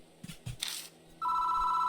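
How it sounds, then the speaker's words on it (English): A telephone rings in the Spirit Hunter: NG video game, a steady electronic ring starting partway through after a couple of soft thumps, loud and clear with no voices. "The phone. Who could be calling this late?"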